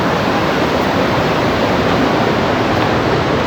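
Close, loud and constant, the water of a waterfall in the Lava and Lolegaon area pours down in a steady broadband hiss and roar, heard alone.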